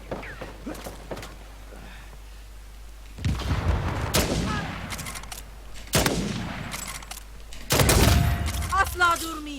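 Gunfire from an Uncharted 4 multiplayer match, loud bursts of rapid shots and blasts arriving in clustered volleys, with some quieter game sounds in the gaps between them.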